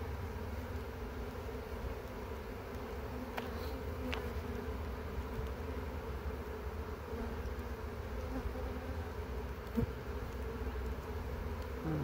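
A steady, low droning hum of many honeybees buzzing together, continuous and close, with a faint brief knock partway through.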